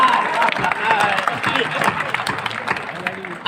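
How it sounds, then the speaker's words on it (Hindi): Audience clapping at a Hindi comic poetry gathering (hasya kavi sammelan), a steady patter of many hands, moderately loud, with voices talking over it. "ताली बजाइए, हौसला मिलता है।"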